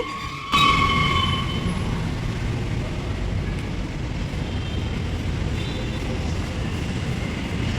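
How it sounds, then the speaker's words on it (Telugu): A metro train rumbles into Whitefield station in Bangalore with a sharp tonal whine at the start, then a steady low mechanical roar that holds throughout. "తర్వాత అయితే మెట్రో అయితే వచ్చేసింది"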